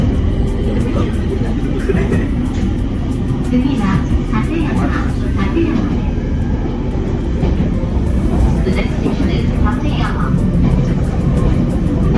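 A steady low rumble of a moving train near Yamagata, Japan fills the clip, with rattling and faint voices mixed into the continuous noise.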